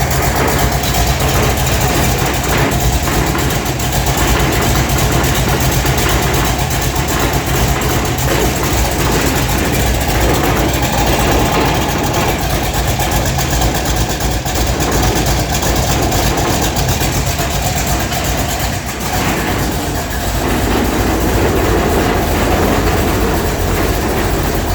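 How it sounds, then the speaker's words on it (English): Old vehicle engine running steadily up close, loud and continuous, with loose running boards rattling and clattering over the dense mechanical drone. "Running boards are rattling like crazy"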